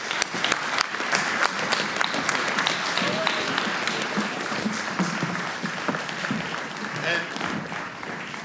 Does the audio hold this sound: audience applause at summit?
yes